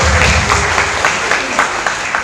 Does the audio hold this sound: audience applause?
yes